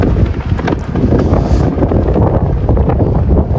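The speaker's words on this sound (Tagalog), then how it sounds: "lakas ng hangin, no?" Strong wind buffets the microphone in a loud, continuous roar with gusty rumbling throughout.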